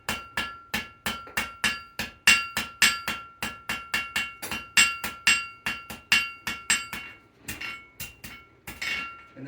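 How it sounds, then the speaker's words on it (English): A blacksmith hammers a metal spade point on an anvil, sharp ringing strikes landing in a quick, steady rhythm of about three per second, close and loud, slowing into a few scattered blows at the end. "right on the edge of the anvil, you hammer half on and half off the anvil"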